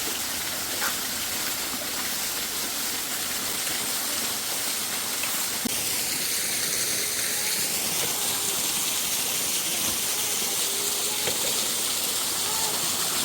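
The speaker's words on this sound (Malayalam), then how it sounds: "ഡാം പൊട്ടിക്കുന്ന കണ്ടോണോ നീ ഇപ്പോ?" Water gushes steadily from a broken small dam in a stream, a continuous loud rushing roar that fills the whole stretch without letting up.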